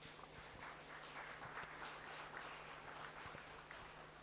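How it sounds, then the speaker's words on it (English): A conference audience applauds a panel with faint, steady clapping that carries on throughout, heard from a distance. "a round of applause for the whole panel"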